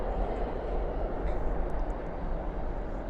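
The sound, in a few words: airliner landing with spoilers and thrust reversers deployed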